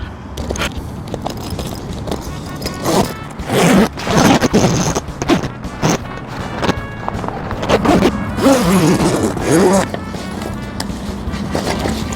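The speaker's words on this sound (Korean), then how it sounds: "지퍼 체결하면 됩니다." A zipper is pulled along a fabric panel of a Remax Camp Twelve cotton docking tent and shelter, giving loud close rasping runs. Someone talks over it.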